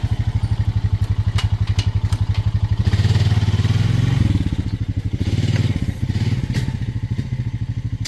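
A base-model four-wheeler ATV engine runs close by with a fast, steady putter, then rises into a louder, rougher rev with some clatter before settling back to a pulsing idle.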